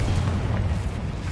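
Confringo spell blast in the video game Hogwarts Legacy, a dense, rumbling explosive boom that stays loud and sustained across the short moment with no talking.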